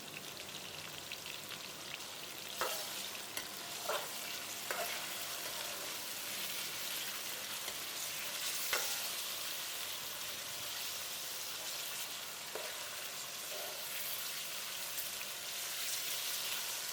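Chicken pieces frying in a pan produce a continuous, moderately quiet hiss, broken now and then by a few soft pops and crackles.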